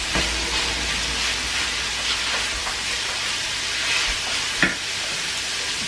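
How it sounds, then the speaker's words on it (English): Kangaroo mince for chilli con carne sautés in a pan, giving a loud, continuous sizzle and hiss with a few soft stirring knocks and no talking. "Just saute that off a couple of minutes."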